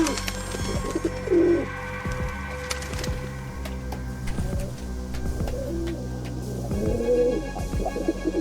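Racing pigeons coo nearby, soft rounded calls repeating at intervals over a low background hum, with no speech.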